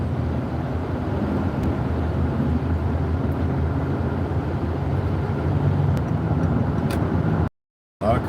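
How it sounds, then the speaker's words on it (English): Steady, continuous road and traffic rumble from a drive along a highway with many cars moving slowly, with no talk and a brief dropout near the end. "A lot of cars today."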